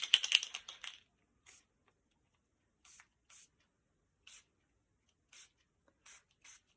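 A burst of spraying from a Dilutions spray bottle, followed by several short, softer spritzes spaced irregularly, with quiet in between.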